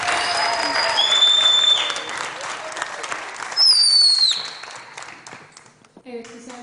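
Studio audience applause on a Turkish entertainment show, loud clapping that swells and fades with whistled tones over it, then drops away as a voice briefly speaks at the end.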